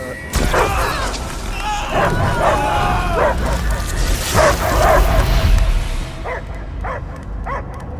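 Dog barking in the video game Marvel's Guardians of the Galaxy, a run of loud, close barks and yips with whimpering tones over rumbling game effects, tailing off into a few separate barks.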